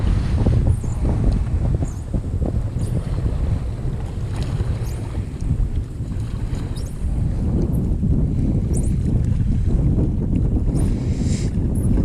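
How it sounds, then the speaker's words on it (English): A Big Rig HD FD Fat Man boat out on open water in wind, with heavy, steady wind buffeting the microphone and water sloshing beneath, paddle strokes buried in the roar. "You gotta do some paddling, keep that wind from hitting you"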